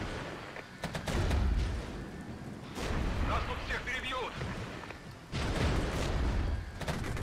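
Artillery fire in the war game Regiments, with repeated heavy booms and gunfire rumbling in bursts, loud and close, while a player talks throughout.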